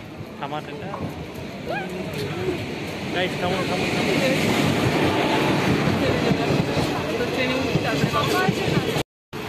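A crowded local train pulls into the station, with a loud sustained rumble, rattling carriages and squealing brakes, while people talk over it before it cuts out briefly near the end.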